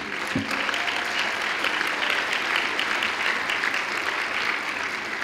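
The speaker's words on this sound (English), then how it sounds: "I say we don't hold the applause" An audience at a university alumni Hall of Fame induction ceremony applauds past inductees, steady dense clapping filling the room at an even level from start to finish.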